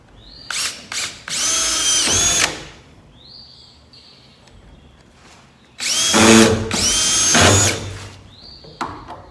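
A cordless drill spins up in two loud bursts a few seconds apart, whining as it drives a screw, with brief quieter mechanical sounds between.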